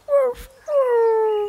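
A cartoon dog gives two sad, drawn-out whimpers, a short rising whine followed by a longer falling one, clear and close with no speech.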